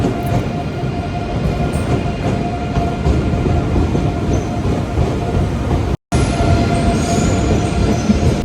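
A passenger train running from Amsterdam to Brussels gives a loud, steady rumble and rattle throughout, with one brief cut near the end and no voices.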